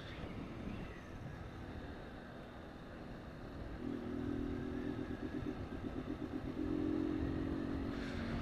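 A small motorcycle engine running without an air filter gives a faint, steady buzzing idle that grows a little louder and rougher in the second half, heard from some distance with no talk.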